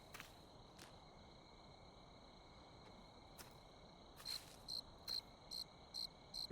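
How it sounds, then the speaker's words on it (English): A frog in the video game The Cursed Forest croaks in short, high, repeated chirps, spaced at first and then coming in a quick regular series against a quiet background. "That sounds like a frog."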